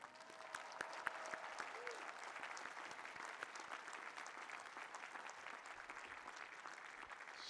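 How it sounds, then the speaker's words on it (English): A commencement crowd at MIT claps steadily for graduates' parents and families, dense applause holding evenly throughout at a moderate distance. "there's another group here that is beaming with pride and that deserves a big round of applause"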